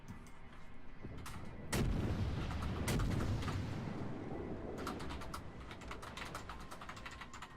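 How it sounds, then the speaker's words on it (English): Naval guns firing in World of Warships, heavy booms at a quick irregular pace with rolling rumble, overlapped by rapid clicking of a computer keyboard. "His guns are just going off in all different directions"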